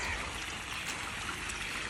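Water gushes at full flow from a motor-pumped pipe onto the ground, a steady, dense rushing and splashing with no pauses, fairly close and constant throughout.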